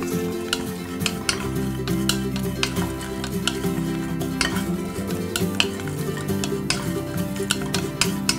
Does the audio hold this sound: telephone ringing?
no